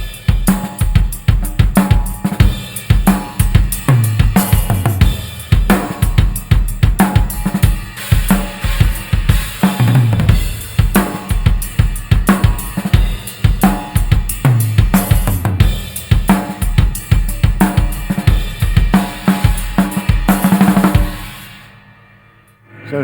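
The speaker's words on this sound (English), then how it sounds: "To the chorus, same basic groove on the kick and snare. But then I just go to the ride cymbal, accent crashes." A drum kit plays a loud rock groove with kick and snare, a continuous ride cymbal wash and accent crash hits, recorded close and driving steadily for about twenty seconds before the crashes ring out and fade.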